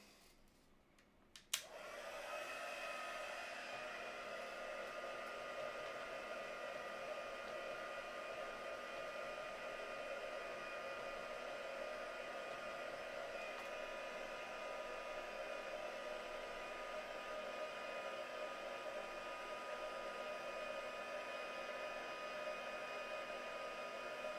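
A hair dryer switches on and runs steadily to dry craft paste, a close, even whirring hiss that lasts the whole time with no talking over it.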